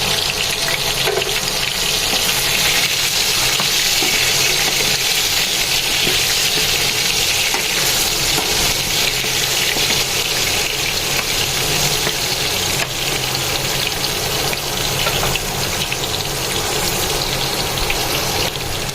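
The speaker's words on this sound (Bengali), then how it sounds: "তো আলুগুলোকে আমি নেড়ে চেড়ে সুন্দর করে ভেজে নেব" Potatoes frying in oil with salt and turmeric for biryani, a loud, continuous close sizzle with occasional stirring clatter running the whole time.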